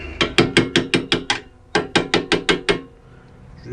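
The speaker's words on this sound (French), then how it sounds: "Si je lui mets un petit coup de marteau" Hammer tapping on a brake part of a Chevrolet Captiva during rear disc and pad replacement, two quick runs of sharp, close metallic knocks, six and then five strikes, with a short pause between runs.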